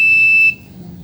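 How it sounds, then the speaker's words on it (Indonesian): An intruder detector alarm buzzer gives one loud, piercing electronic tone for about half a second, then cuts off abruptly, leaving quiet background. "Kemudian kita juga dapat mematikan buzzer dan"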